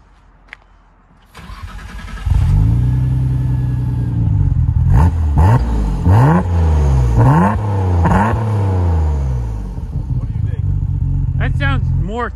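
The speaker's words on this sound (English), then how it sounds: "you can tell that that one's got a manifold with like more equal length runners. It's got that crack." A twin-turbo car with an equal-length exhaust manifold starts and revs hard several times, loud and close, its throaty, crackling note surging and falling in sharp bursts before settling back to a steady idle.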